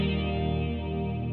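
A sustained, full-bodied chord rings out on a Gibson Firebird X electric guitar through a chorus effect, swirling and shimmering evenly without pause.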